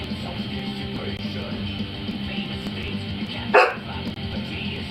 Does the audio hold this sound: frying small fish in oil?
no